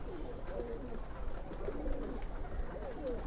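Pigeons, a silver hen among them, coo softly in repeated low rolling phrases, with a few higher chirps layered over quiet background noise.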